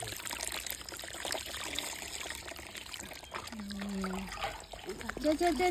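Water poured over a dog being bathed pours and trickles in uneven bursts, with splashing and a voice talking over it, close by.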